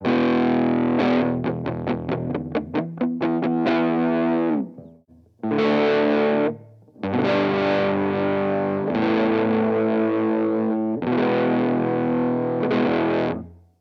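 Distorted Ibanez 2469 Futura electric guitar on the neck pickup, warm and bassy, plays a run of quick picked notes, then sustained chords in bursts with brief pauses between them.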